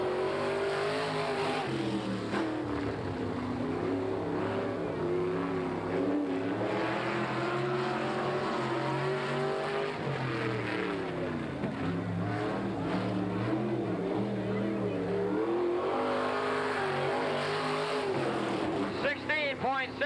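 A Chevy-powered Stewart sprint car from 1987 roars around the Hales Corners dirt track in a World of Outlaws shootout, its engine loud and continuous and rising and falling through laps, while an announcer talks over it.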